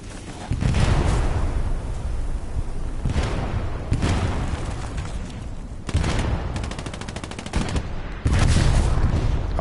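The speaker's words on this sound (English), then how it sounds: "Artillery's landing on the point." Heavy gunfire and explosive booms from artillery shells landing on a World War II battlefield in Hell Let Loose. Dense, loud and continuous, with repeated deep bursts and a rapid rattling volley near the end.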